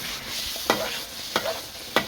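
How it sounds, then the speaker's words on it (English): A brief stir of chicken jalfrezi in gravy in a pan: three soft, separate spoon scrapes over a faint, low simmering hiss, quiet and close. "after giving it a brief stir"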